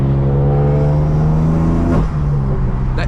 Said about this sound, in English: I love the intake sounds.